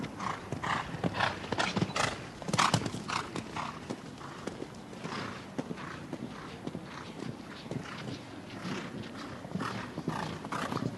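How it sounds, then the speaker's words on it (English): Rhythmic clip-clop of an event horse's hooves moving at pace, fairly close, with a brief whinny and faint voices in the background. "This horse was formerly ridden by Peter Barry"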